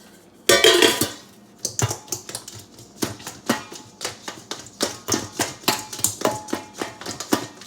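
Raw chicken wings are shaken hard in a lidded bowl, making a loud opening burst, then a quick, rhythmic run of knocking, rattling thumps up close.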